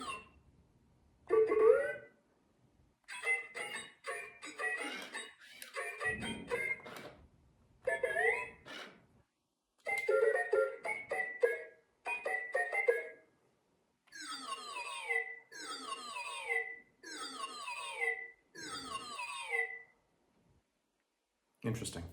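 A Star Wars R2-series astromech droid toy, fitted with a personality chip, lets out bursts of chirps, warbles and electronic beeps, separated by short pauses and ending with a couple of rising whistles.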